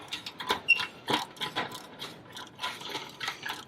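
Quick ratchet clicks in uneven bursts as a hand ratchet turns a 13 mm bolt at the top of a Jeep Gladiator's Magnaflow cat-back exhaust, close and moderately loud with no talking.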